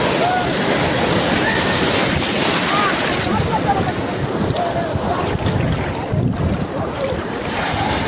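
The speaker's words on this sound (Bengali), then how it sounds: "এটা বড় ঢেউ আসে" Sea waves surge and break around a small boat offshore, a loud continuous rush of water with heavy wind buffeting the microphone and occasional voices under the noise.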